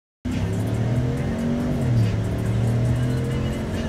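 Ford 5.0 and 6.2 trucks launching hard in a street race, engines roaring loud and close as tires squeal in a sustained screech that rises and holds through the run.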